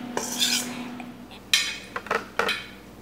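Pasta tossed with oil in a bowl for a pasta salad with Italian dressing, heard as a few separate bursts of clinking utensil scrapes against the bowl, close and fairly quiet.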